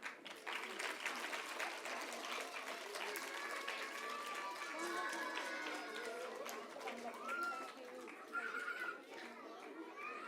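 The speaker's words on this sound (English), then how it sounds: "Parents, please clap" Parents clap at a preschool annual day, a sustained crowd of hand claps mixed with children's chatter and shouting and an announcer's voice, moderately distant and continuous.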